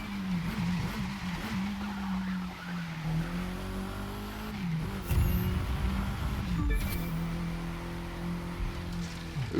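A KTM X-BOW R races through a street course in The Crew 2, its engine droning loudly with shifting revs, interrupted by sharp tire squeals and skids, with no one speaking.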